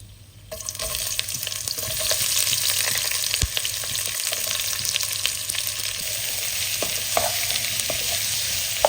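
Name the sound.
onions frying in a pan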